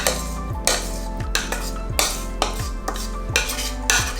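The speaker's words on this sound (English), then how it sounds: "I'm going to transfer my custard into a plastic bowl." Custard is scraped and spooned from a pan into a plastic bowl, with repeated clinking scrapes of utensil against cookware in a steady rhythm of about one stroke every half second, close and clear with no talking.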